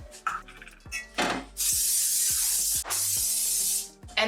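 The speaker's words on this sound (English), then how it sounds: "we're gonna coat it with some non-stick spray that we had here" Non-stick cooking spray hisses in two long, loud continuous bursts onto a cast iron skillet, with short clinks and knocks of kitchenware before and between them.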